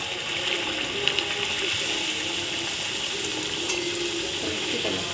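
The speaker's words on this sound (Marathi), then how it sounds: "थापून तेलात तळून घ्यायचे आहेत" Dhapate, Maharashtrian flatbreads patted out and frying in oil, give a steady bubbling sizzle with a few faint clicks, moderately quiet and continuous.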